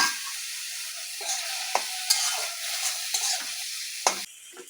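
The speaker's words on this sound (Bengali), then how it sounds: "একটুখানি চিনি দেব যাতে পেঁয়াজটা লাল হয়।" Sliced onions fry with a little sugar in a pan, a steady close sizzle punctuated by several sharp scrapes and knocks of a spatula stirring them, with no talking.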